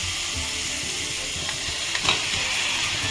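Soft, steady sizzling hiss of spice paste frying in oil before fish is added, fairly quiet, with a faint stir or clink partway through.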